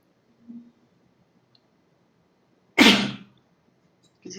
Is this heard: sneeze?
yes